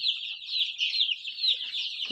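Chickens on a poultry farm, basking in the sun beside open fields, give a steady stream of high, busy clucking and chattering that runs unbroken through the whole stretch at moderate loudness.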